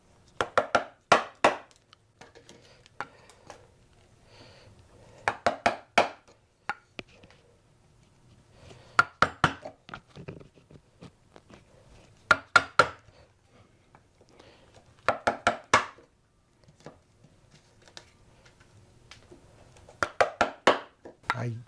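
A hand chisel chops out a wooden post joint in repeated clusters of sharp, crisp mallet strikes, several quick blows per group with short pauses between, close and fairly loud.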